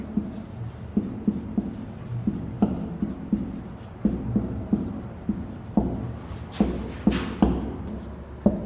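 A pen scratching steadily across paper while a Hindi definition is handwritten in a class lesson, rhythmic close strokes with brief pauses and no talk.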